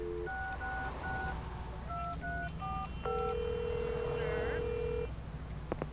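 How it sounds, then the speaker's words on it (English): Telephone sounds from the Leisure Suit Larry Reloaded game: a series of short touch-tone dialing beeps in quick groups, then a long steady tone with brief electronic chirps, over a soft background hum. "You pick up the phone, and to your delight, you get a dial tone."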